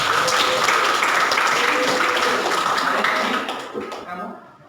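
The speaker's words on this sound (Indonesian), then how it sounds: "Berikan tepuk sama adik." A classroom full of students claps together in sustained applause for a few seconds, then the clapping thins out and fades.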